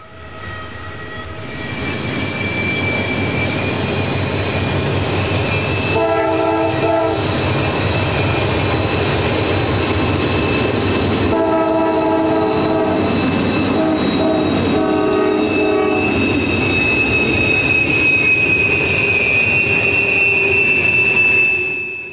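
A heavy freight train led by two GE locomotives grinds around a curve on the Pittsburgh Line, engines roaring while wheels squeal on the rails and a horn sounds, loud and continuous throughout.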